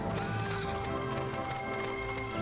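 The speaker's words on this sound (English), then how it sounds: "You can hear the horse pulling the wagon" In a Dragon Quest 8 video game, a horse pulling a wagon whinnies over steady clip-clop hoofbeats, moderately loud and close, the neighing carrying through the whole stretch.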